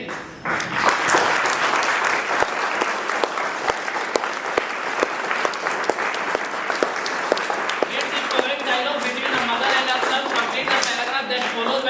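Students in a classroom clapping together in applause, a dense close run of hand claps with a regular beat that carries on steadily, with voices mixed in underneath.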